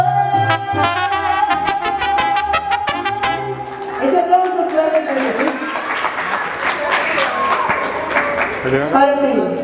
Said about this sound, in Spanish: Ese aplauso fuerte, que sí.